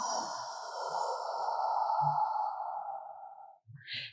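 A single long, breathy exhale in a Pelvic Flow breathing exercise, close and steady for about three and a half seconds before tapering off, followed by a brief faint sound at the end.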